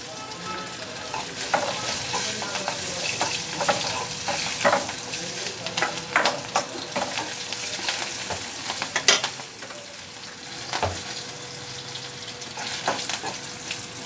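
Boiled black-eyed beans stir-fried with salt in a pan, giving a continuous close sizzle with frequent irregular spatula scrapes and clinks, no voices.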